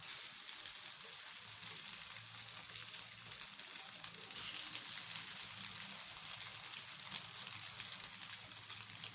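Food frying in heated oil in a pan for a children's lunch, a soft, continuous sizzle and crackle, close but quiet, with a few small pops and no talking.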